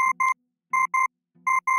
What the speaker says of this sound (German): Das Telefon klingelte.